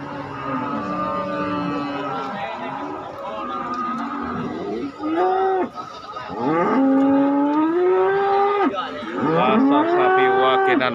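Cattle moo repeatedly and loudly at a livestock market in Pati, long drawn-out calls overlapping one another, with a steady background din of a busy livestock pen.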